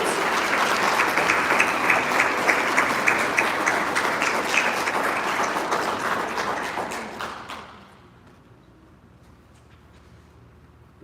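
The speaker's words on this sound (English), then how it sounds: "Once again, let's give everybody a big round of applause." A room of guests applauding at a scholarship reception, full clapping for about eight seconds before it tapers off into near silence with a few stray claps.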